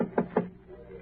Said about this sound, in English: Then he knocks.